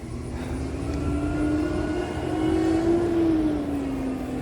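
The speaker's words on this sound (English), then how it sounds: "Oh, that's the recycling truck." A recycling truck rumbles up a residential street, a broad steady engine roar with a rising and falling drone swelling slightly as it approaches, fairly close and sustained with no talking.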